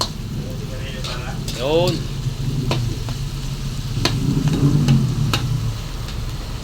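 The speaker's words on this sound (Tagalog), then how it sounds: "Ayan, igigisa natin maigi." Ingredients for Ilocano papaitan sautéing in a pan, giving a steady low sizzle under a voice. Faint clinks and stirring scrapes cut in now and then.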